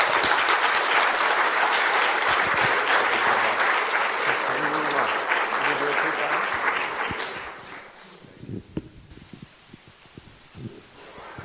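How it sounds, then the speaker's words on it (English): A conference audience applauds a speaker being introduced, a loud, dense burst of clapping from many hands that thins out after about seven seconds into a few scattered late claps. "please, a big round of applause for the Reverend Jim Groom."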